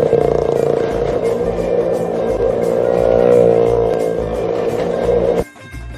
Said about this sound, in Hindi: मौत के कुएं में एक गाड़ी और मोटरसाइकिल।